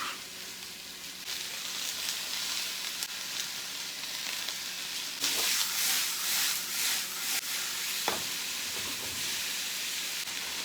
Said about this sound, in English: vegetables are cooking nicely